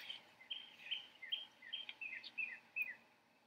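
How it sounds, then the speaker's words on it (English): A robin sings a run of short, clear phrases in a marsh where red-winged blackbirds live, the faint chirps repeating in an even rhythm over quiet background hiss. "Really, we're hearing a lot of the robin right now."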